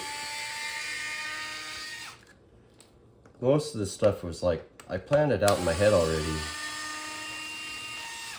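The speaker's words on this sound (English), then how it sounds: "I am using power tools" A high-pitched power drill whines steadily while repairing a Traxxas Jato 4x4 RC buggy, stops while someone talks briefly, then starts up again loud and continuous.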